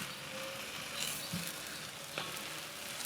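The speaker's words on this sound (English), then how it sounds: "You can see that sizzle right on the bread." Bread toasting on a hot plancha griddle at an Argentine asado, a steady close crackling sizzle with a few brief clicks and scrapes over it.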